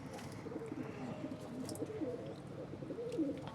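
Rooftop pigeons with eggs and chicks coo and murmur steadily in a low, continuous chorus, with faint chirps over a quiet outdoor background.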